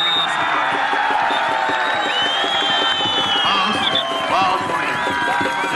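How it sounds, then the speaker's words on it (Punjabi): A stadium crowd at the final of a kabaddi cup match between the Pakistan Air Force and the Pakistan Army roars with continuous cheering, whoops and shouts. The cheering is loud and sustained, and a voice calls out over it. "ਤਾੜੀਆਂ ਮਾਰ"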